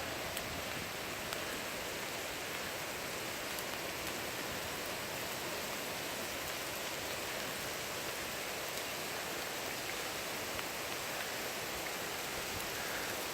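Steady rain falls at Kiahuna Plantation, a dense, even hiss of drops on surfaces that continues without a break, close and uniform, with no voices.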